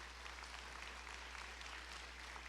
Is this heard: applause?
yes